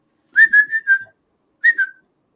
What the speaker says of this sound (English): Who's that whistling?